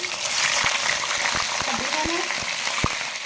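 Half a kilo of mutton frying in a pot with cinnamon pieces, a dense steady sizzle with scattered sharp crackles and pops, close by, while a voice talks over it.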